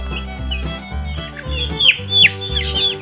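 Week-old chicks peep in sharp, high chirps while being lifted one by one onto a scale, with louder bursts of cheeping over a low background hum.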